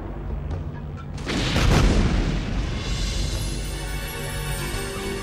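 Missile explosions in the Transformers Beast Wars cartoon, a loud, sustained boom that swells after a second and then rumbles on, fading slowly.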